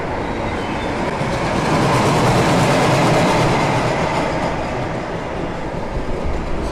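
A Jaguar roller coaster roars past at Knott's Berry Farm, a loud, steady rumble of wheels on track with a rattling clatter that swells and holds for several seconds without any talk.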